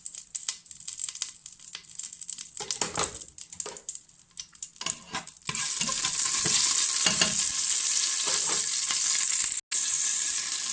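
An onion mixture hits a hot pan, bringing a sudden loud, steady sizzle of frying, preceded by scraping and clattering as a utensil stirs and knocks against the pan.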